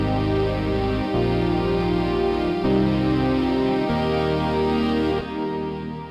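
Ableton Drift, an MPE synth, played from a Seaboard RISE 2 with delay and reverb, sounds rich sustained chords that shift every second or so and keep ringing with a spacious wash, loud and alone.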